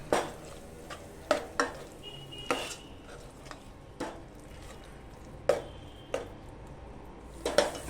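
Masala for a Malvani-style black pea usal is stirred in a pan, with soft spatula scrapes and taps against the metal at irregular intervals over a faint background hiss.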